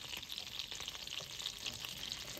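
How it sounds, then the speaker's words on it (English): Salted Kerrygold butter sizzles steadily in a hot pan, a dense continuous crackle and hiss with tiny pops throughout, close and fairly quiet, with no voices. "And I have some sizzling, yummy, salted butter."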